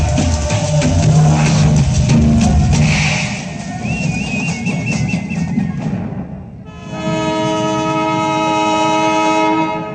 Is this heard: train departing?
yes